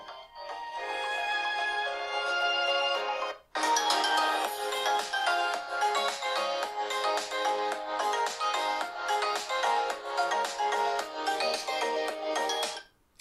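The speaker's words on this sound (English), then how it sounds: "if you want to listen to music, I have one sample prepared for you" A music sample plays through the small speaker of a Motorola Defy 2021 rugged phone, a steady melodic tune with a brief pause about a third of the way in, fairly loud and thin-sounding, with no voices.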